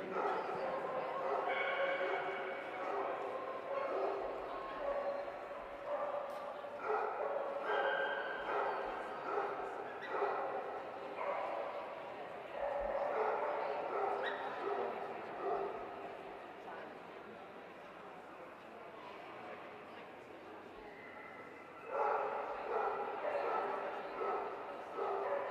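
Longhaired Dachshunds yip and bark in scattered bursts at a hound show, heard under a public-address announcer and steady crowd murmur.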